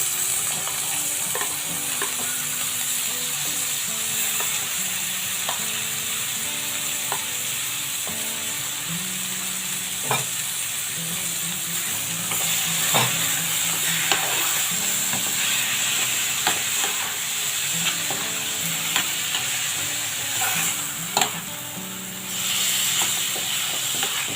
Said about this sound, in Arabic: هنحط الفراخ عشان تاخد ايه تشويحه